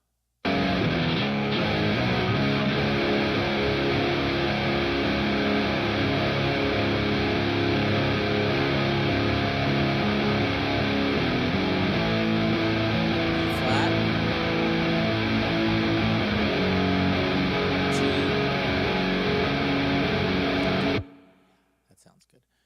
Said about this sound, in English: Okay, so the first guitars sounds like this.